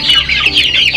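Chickens and chicks raised on a small farm cluck loudly and close up in a dense, overlapping flurry of short calls lasting about a second.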